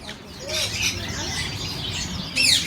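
Talking birds in a bird shop chirp and call in quick bright bursts, close and lively, with a louder flurry of tweets near the end over a busy background.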